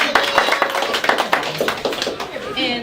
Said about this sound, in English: And give yourself some round of applause.